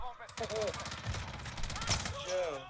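Rapid bursts of MP5 gunfire in Warzone rattle in quick succession, mixed with a voice speaking excitedly in Polish over them.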